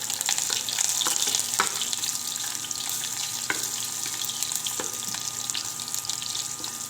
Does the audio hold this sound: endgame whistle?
no